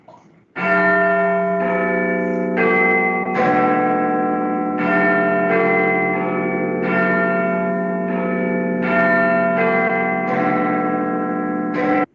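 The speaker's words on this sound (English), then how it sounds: "Bell sound." A church bell rings repeatedly in a steady rhythm, loud and resonant, its tones overlapping with a long reverberant ring.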